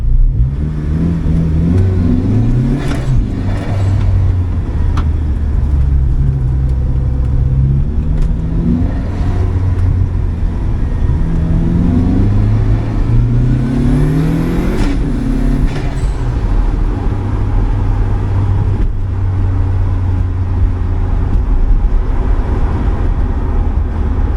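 An Opel Speedster's turbocharged engine revs up and down repeatedly while driving, loud and close, with rising and falling pitch sweeps over a steady rumble of road and wind noise and no voices.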